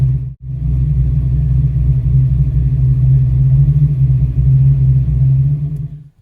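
A Fox Body Mustang idles steadily through a FlowMaster exhaust, a loud, close, deep rumbling burble that holds even throughout, with one brief dip near the start and a fade at the end.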